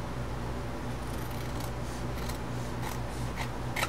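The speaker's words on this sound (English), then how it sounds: "So then I just take my scissors and trim it out." Scissors trimming paper for a mini album, giving soft intermittent snips and rustling cuts close by over a steady room hum.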